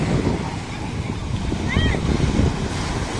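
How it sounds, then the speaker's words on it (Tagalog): Strong wind buffets the microphone over the rolling wash of waves at a beach, a loud steady outdoor roar, with a brief faint whistle in the middle. "Tapos ang lakas ng hangin, ang lakas ng alon."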